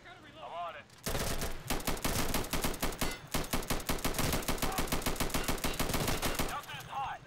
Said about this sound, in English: Delta is hot. I'm reloading. Jesus Christ, shot me through the wall